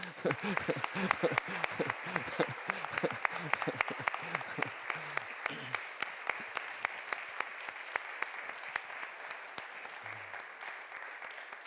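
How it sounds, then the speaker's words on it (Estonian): Guests at a wedding ceremony break into a long, steady round of applause, loud and dense at first with a voice speaking over it, then settling into scattered claps that thin out toward the end. "Teeme neile ühe suure aplausi, see on väärt seda."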